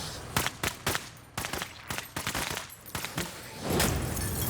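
Rapid rifle gunfire in the tactical video game Menace, a loud burst of several sharp close shots followed by a sustained roar, no talk.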